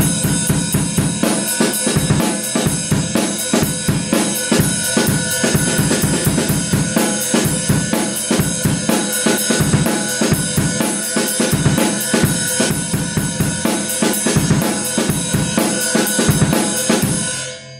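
A sampled drum break loop plays loud and dense, with busy kick, snare and cymbal hits in a rapid breakbeat that keeps retriggering from the start of the loop.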